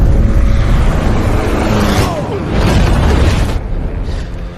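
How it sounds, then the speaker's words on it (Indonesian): A bomb explodes in the James Bond film No Time To Die as a ship sinks, producing a heavy, rumbling boom with a deep low roar and crackling bursts that slowly fade. "Setelah bom meledak, kapal tenggelam."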